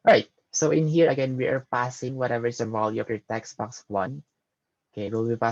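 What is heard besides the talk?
No distinct noise like a dog, phone or traffic.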